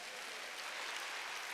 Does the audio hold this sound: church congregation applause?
yes